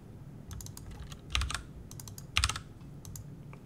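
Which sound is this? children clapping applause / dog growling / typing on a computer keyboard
typing on a computer keyboard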